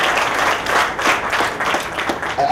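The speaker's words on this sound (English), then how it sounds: "let's give a round of applause to all of the documentary filmmakers that have been here this year" An audience at a film festival awards event applauds the documentary filmmakers, many hands clapping loudly and continuously with swelling bursts across the stretch.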